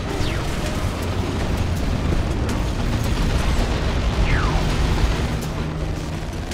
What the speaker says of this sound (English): I had tried to dodge the stick bombs, but then I actually just ended up walking right into them